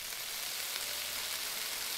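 Food fries in a pan in the video game Cooking Simulator, giving a steady, soft hiss of sizzling with no break and no voices.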